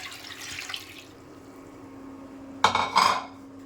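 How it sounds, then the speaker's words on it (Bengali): Water poured into a cooking pan holding prawns for a prawn and raw pumpkin curry, a soft rushing splash with light metallic clatter, heard in two short bursts near the end over a low steady kitchen hum. "জল দিয়ে দিলাম।"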